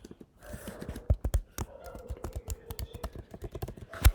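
Someone types HTML code on a computer keyboard: rapid, uneven key clicks with occasional louder thumps, close up and moderately loud.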